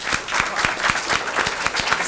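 Scattered applause from an audience at a meeting honoring women for their service, a moderate, uneven patter of clapping that runs steadily for a couple of seconds.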